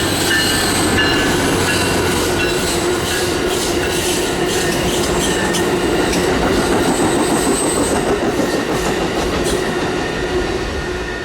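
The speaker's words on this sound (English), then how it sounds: "The OC hadn't experienced any delays yet this morning, with an on-time Amtrak 562 providing the day's first southbound." An Amtrak 562 Surfliner passenger train hauled by a Siemens locomotive rolls past, a loud, continuous rumble with faint wheel squeal and clickety-clack sustained throughout without pause.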